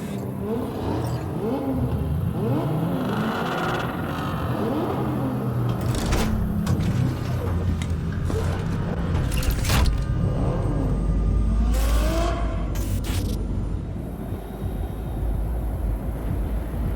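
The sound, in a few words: convoy car engines revving in video game Cyberpunk 2077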